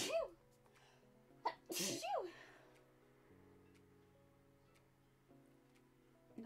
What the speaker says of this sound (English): I often sneeze in threes.